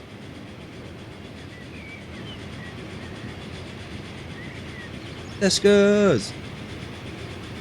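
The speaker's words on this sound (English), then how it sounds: "We've got a train waiting." A train in Team Fortress 2 on a British-themed map rolls past with a sudden loud metallic roar and squealing tones lasting about a second, after a stretch of quiet ambience and a brief spoken voice.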